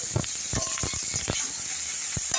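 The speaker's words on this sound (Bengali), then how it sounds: "আপনারা দেখুন বেশ কিছুক্ষণ ধরে আমি এই ডাঁটা আর আলুটা ভাজলাম" Potato and drumstick stems fry in hot oil, giving a soft background hiss broken by irregular sharp crackles and pops.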